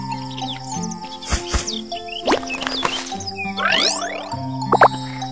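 Cartoon birds chirp and tweet in the children's game Baby Panda's City, with busy, overlapping calls, sweeping whistles and soft game effects over light background music.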